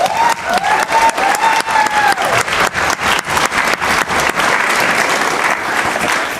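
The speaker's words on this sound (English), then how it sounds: "we owe all of the friends, family, parents in the room a big round of applause" Graduation ceremony audience applauding friends, family and parents in the room, loud sustained clapping with distinct individual claps near the mic and brief cheering voices over the top.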